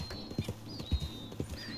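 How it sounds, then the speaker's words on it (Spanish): Horse hooves clip-clopping in Red Dead Redemption 2, a few close, uneven hoof thuds over a steady game ambience with a faint whinny-like tone. "Se hace bailar a mi caballito."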